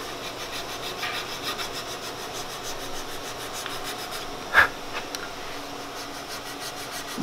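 A hand file rasps rhythmically across a carved walnut colonial longrifle stock, with close, even strokes and a brief knock partway through, no voices.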